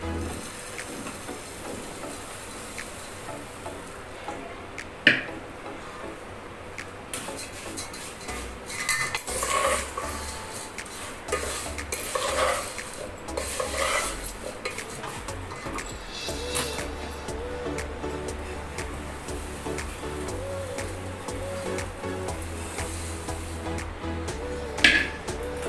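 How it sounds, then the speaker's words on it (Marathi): Flattened rice (poha) stirred in hot tempering in a pan, with repeated scraping and clinking of a metal spoon against the vessel, a few sharp knocks, and faint sizzling underneath. "पोहे टाकल्यावर जास्त हलवायचे नाहीत, फक्त असे हलवून घ्यायचे."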